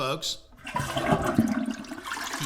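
Toilet flushing in a rushing, gurgling swirl of water that swells and drains, with a voice speaking briefly over it.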